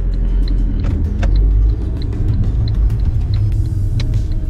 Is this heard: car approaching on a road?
yes